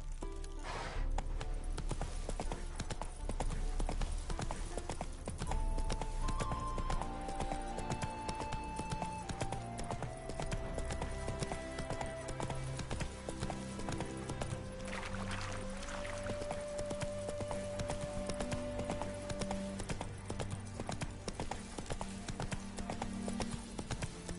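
Roach the horse galloping in The Witcher 3, with rapid rhythmic hoofbeats that carry on without a break over sustained melodic music.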